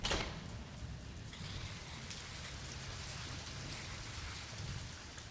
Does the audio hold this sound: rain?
yes